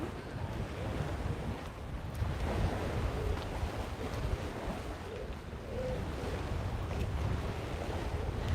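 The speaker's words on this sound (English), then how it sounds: "Look, the wind's picked up a little bit." Steady wind over the sea at Puerto Pollensa, Mallorca, a continuous rushing roar with buffeting on the microphone and faint wash of water beneath.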